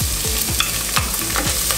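Onion frying in rendered bacon fat sizzles steadily while a utensil stirs and scrapes through it in a quick repeating rhythm of about four strokes, close and fairly loud, without any talking.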